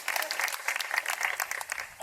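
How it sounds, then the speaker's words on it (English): Audience applause at a city band concert honouring the band's arranger, dense steady clapping from a crowd at moderate distance, fading slightly at the end. "So another round of applause for him again."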